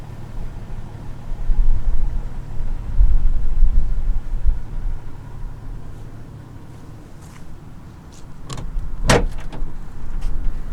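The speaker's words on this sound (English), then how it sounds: "The tailgate is easy lowering." The tailgate of a 2018 Toyota Tacoma pickup being lowered outdoors, a soft mechanical rumble and low shuffle followed by a couple of sharp metallic clicks and a clunk near the end, fairly close.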